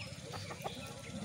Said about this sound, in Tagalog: Mga manok dito sa baba.